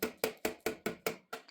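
A Harley-Davidson Sportster front wheel axle is tapped out with sharp metallic strikes, seven evenly spaced close hits in quick succession, alone and fairly loud.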